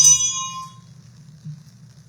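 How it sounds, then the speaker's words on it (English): A single bell, likened to an old school bell, strikes once with a bright ringing tone that fades out within about a second. A low hum continues underneath. "It's like an old school bell."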